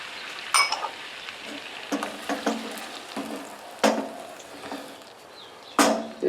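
Oysters seasoned with red chili flakes, salt and pepper starting to cook on a grill, a soft sizzle running underneath a few sharp scraping clicks and knocks.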